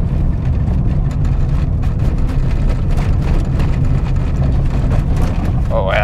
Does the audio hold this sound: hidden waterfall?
no